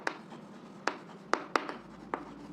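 A pen writing a word on paper makes faint scratchy strokes with a few sharper taps, close by and quiet, with no voice.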